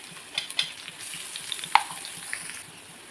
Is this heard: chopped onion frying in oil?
yes